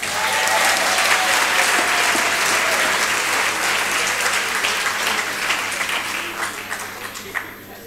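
Members of South Africa's parliament applaud during the finance minister's mid-term budget statement, a broad burst of clapping that stays strong, then gradually thins and fades toward the end.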